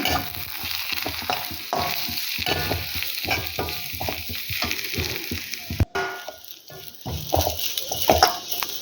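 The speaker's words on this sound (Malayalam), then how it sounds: "നാളികേരം ചുവന്നുള്ളിയും കറിവേപ്പിലയും കുറച്ച് വെളിച്ചെണ്ണ ഒഴിച്ച് നന്നായിട്ട് വറുത്ത് അരച്ചെടുക്കുക" Close-up sizzling of grated coconut, shallots and curry leaves roasting in coconut oil, with repeated scraping and stirring strokes in the pan.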